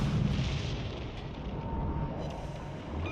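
Warship guns fire in World of Warships Legends, a heavy booming salvo at the start that rolls into a sustained low rumble of gunfire and sea ambience.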